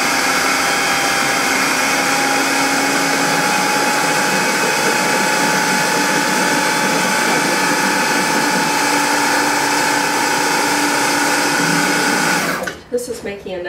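A blender purees beans into brownie batter with a loud, steady motor whine and grinding churn that holds for about twelve seconds, then cuts off abruptly into a few faint clatters.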